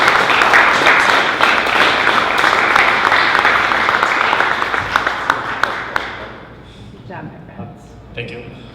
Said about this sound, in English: if everyone could just give Bryce a round of applause